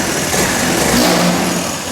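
A Honda Navi scooter's small engine runs steadily just after starting, a loud, close, buzzing hum with a slight rise in revs midway, alone without talk.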